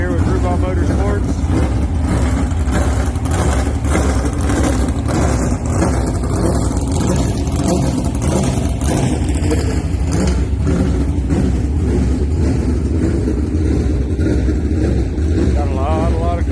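Race car engines rumble and rev in the pits at Volusia before a USCS 360 sprint race, a dense, loud mechanical roar that fills the whole stretch, with voices talking underneath.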